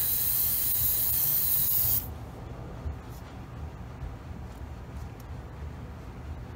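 A steady airbrush hiss spraying paint onto a model's lower fender for about two seconds, then it stops, leaving a low background rumble with faint clicks.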